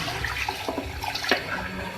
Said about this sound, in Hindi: मैं इसमें ऐड करूँगी यखनी जो मैंने छान के अलग कर ली है